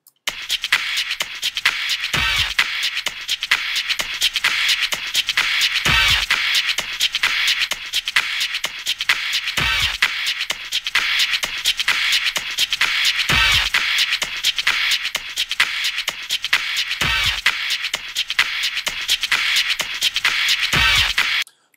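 Drum break run through Ableton's Limiter effect, a dense, loud loop of hits that repeats roughly every four seconds, each cycle anchored by a deep kick, playing alone with no talk.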